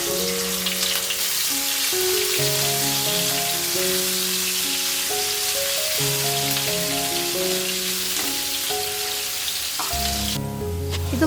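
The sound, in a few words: ginger and crushed garlic sizzling in coconut oil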